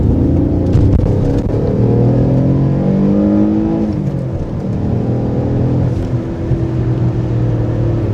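Alfa Romeo 147 GTA with its Busso V6 revving under acceleration, a loud throaty engine note that climbs through rising pitches, eases off and builds again, heard close with no talk.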